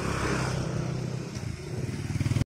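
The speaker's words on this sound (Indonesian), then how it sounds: "Awas motor minggir." A motorcycle engine passing close by at a village carnival in Sumberagung, Panggungrejo, its steady loud rumble blending with heavy bass music from carnival sound systems.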